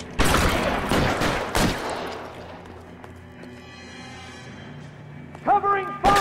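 Gunfire in the L.A. Noire video game: a loud flurry of shots at the start, then a fading tail of echo, with game characters shouting over the opening and a short voice near the end.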